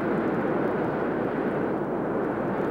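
A jet aircraft roars during takeoff, with a loud, dense, continuous rumble that stays steady the whole time.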